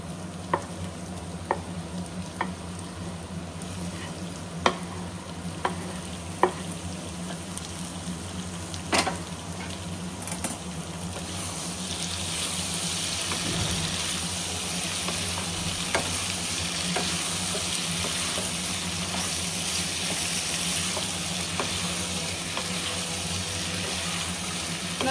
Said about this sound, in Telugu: ఇప్పుడైతే కర్రీ చేస్తున్నాను